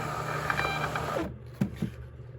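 A Munbin thermal label printer feeding out 4x6 shipping labels, a soft whirring run followed by a couple of sharp clicks and taps near at hand, with no talking.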